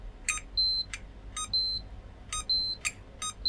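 A multimeter in continuity mode bleeps while testing a Schottky diode, giving short electronic bleeps with sustained high tones in between, repeating in an uneven rhythm, clear and close.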